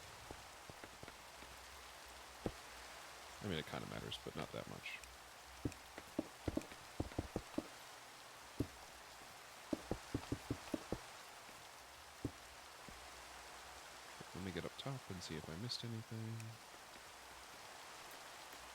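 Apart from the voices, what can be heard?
rain falling in the Minecraft video game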